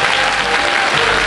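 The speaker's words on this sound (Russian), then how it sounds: "Юрий Головин, ваши аплодисменты." Loud, dense applause from a concert audience at a wind and percussion department recital, greeting a named teacher; continuous, even clapping with no talk over it.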